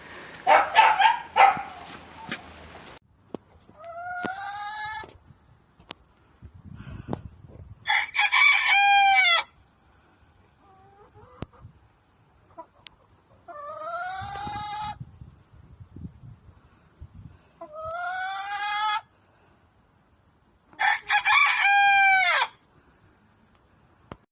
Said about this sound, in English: It's a cockerel.